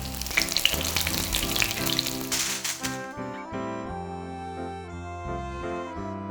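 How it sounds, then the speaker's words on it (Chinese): A scallion pancake pan-fries in hot oil, sizzling and crackling loudly up close for about three seconds before music takes over and the frying drops out. "好，这时候我们再翻面一次，把它煎到金黄色。"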